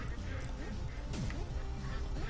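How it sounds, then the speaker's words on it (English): Quacking from ducks in a holiday-themed video game pokes through a dense mix of game effects and jingling music, with someone speaking over the scene. "Frickin' ducks, man."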